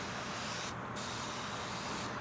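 Rinseless car wash sprayed onto car paint from a close trigger bottle, a continuous loud hissing mist lasting the whole moment with a brief dip partway, no talking.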